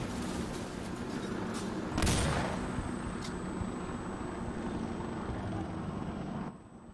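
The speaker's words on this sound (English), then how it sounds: "Oh, that's an Apache helicopter." An Apache helicopter roars overhead in the video game Insurgency Sandstorm, a dense rumbling wash broken by a sharp burst of gunfire, with a faint high whine and the noise thinning near the end.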